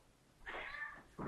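A pet cat meows indoors, one drawn-out, close and fairly loud cry with a second meow starting right after, no talking over it.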